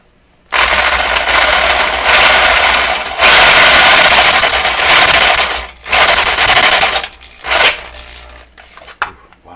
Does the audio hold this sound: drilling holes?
yes